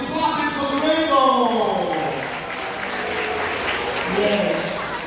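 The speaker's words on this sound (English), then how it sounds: "All the children give dolphins a big clapping for the rainbow!" Children at a dolphin show clap for the dolphins after a rainbow trick, a steady wash of applause running throughout under an amplified announcer's voice.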